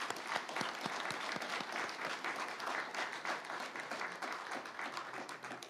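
Sustained applause from a large crowd at a Korean national anniversary ceremony for the Provisional Government, steady and fairly distant, with no speech over it.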